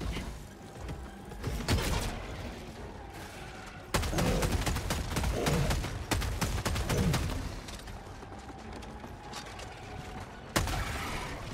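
The Dominator gun fires at Terminids in Helldivers 2, sounding as loud, repeated gunshot bursts mixed with mechanical clatter and explosive impacts over dense game noise.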